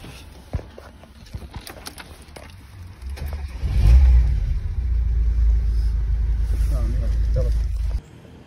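Tofaş car engine cranks and fires at an emissions test station, settling into a loud, steady low rumble close by that runs for several seconds before cutting off abruptly, with a voice talking briefly over it.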